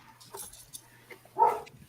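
A dog gives a single short bark or yelp indoors, moderately close, after a stretch of quiet room tone with faint background sounds.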